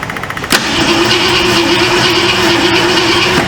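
A 1966 Ford Mustang engine cranks briefly and then catches on its first start, settling into a loud, steady, rough idle close by.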